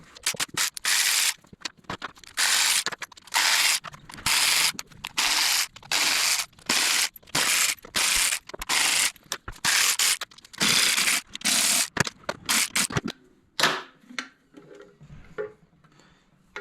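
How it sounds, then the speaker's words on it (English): Bolts are removed from a cover on a Harley Dyna Lowrider with a ratchet, heard as a rapid series of loud clicking bursts separated by short pauses, ending with a few lighter clinks. "And we're going to take out all these bolts."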